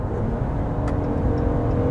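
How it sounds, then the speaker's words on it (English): A 2025 RAM 1500 Crew Cab with the Hurricane engine accelerates hard to overtake a car, a loud, continuous engine roar with road and wind noise heard from inside the cab, without talk. "we're going to go past this car here"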